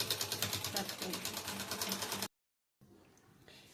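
A sewing machine double-stitches fabric for a choli-cut katori blouse, running in a steady rapid rhythmic whir for about two seconds before stopping abruptly, leaving near silence.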